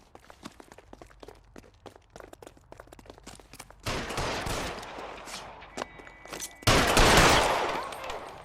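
Gunfire in L.A. Noire starts as light rapid footsteps and scattered shots, then swells into heavy, loud bursts of shooting close at hand.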